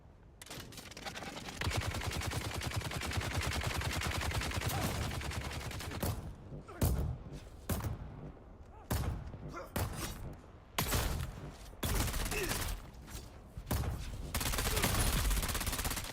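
Sustained rapid submachine-gun fire from Dune: Awakening, one long continuous burst followed by a series of shorter choppy bursts, loud and close with no talking.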